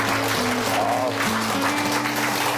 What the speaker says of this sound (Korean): 다시 한번 명품 강연을 들려주신 우리 조원영 선생님 다시 한번 큰 박수 부탁드리도록 하겠습니다